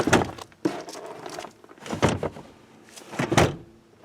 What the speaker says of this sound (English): To fold down your third row seats, just pull on the latch here